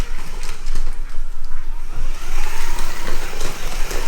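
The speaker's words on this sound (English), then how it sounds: "this thing really is a lovely silent car, near enough silent anyway. Beautifully smooth NSR motor." A slot car with a smooth NSR motor runs laps on a track, its motor whine rising and falling as it passes close by, with a steady electric drone under repeated swells and no talk.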